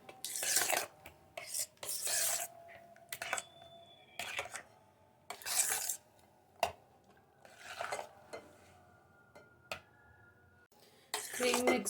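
Packed cream is mixed into a creamy fruit custard, a spoon scraping and stirring against the bowl in close bursts of rough swishing with pauses between, and a little talk in the background.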